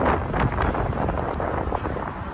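Strong wind buffets the microphone on the deck of a moving riverboat, a loud continuous roar with gusty swells and no voices.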